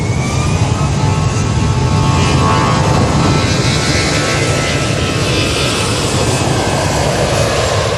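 A business jet turns and powers up for takeoff at Manchester Airport, its engines building into a loud, continuous broadband roar that holds steady throughout, with no talking.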